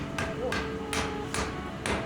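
A hammer strikes stainless steel being forged for a Japanese chef knife in a Japanese smithy, five evenly spaced ringing blows over a steady workshop hum.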